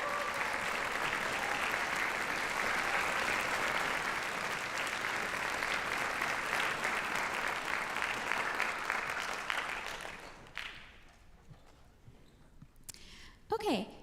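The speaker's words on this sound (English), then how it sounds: "Can we have another round of applause?" Audience at a high school spring orchestra concert applauding the soloists, sustained dense clapping that fades out after about ten seconds, followed by a few scattered knocks and shuffles.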